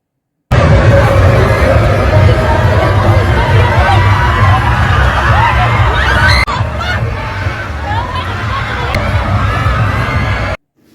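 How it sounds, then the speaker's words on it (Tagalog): A dense crowd shouts and cheers nonstop along the street during the Sinulog Festival float parade, loud and continuous, with a brief dip partway through before the roar carries on. "Hindi magkamayaw ang sigawan ng mga tao"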